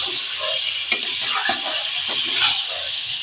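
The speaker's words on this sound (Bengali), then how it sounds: "ডিমের সাথে আমি একটু কষিয়ে নিচ্ছি।" Duck eggs stir-fried in a thick spice masala give off a steady close sizzle, with soft stirring scrapes and clicks scattered over it and no talking.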